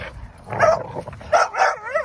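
Merle tricolor bully dogs yip and bark in a few close, loud bursts, with whimpering between them and no talking.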